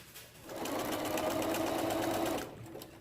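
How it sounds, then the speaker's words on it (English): A Bernina 325 sewing machine stitches stretch binding on fabric for a head sock mask, starting up into a fast, steady close whir for about two seconds and then stopping, with no talk. "This machine has worked so well on this stretch fabric so far."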